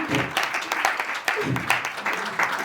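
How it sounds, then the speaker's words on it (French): A church or seminar audience claps together in a burst of applause, dense uneven hand claps filling the room at fairly close range, with a few faint voices mixed underneath. "Bien évidemment, on applaudit pour nous-mêmes."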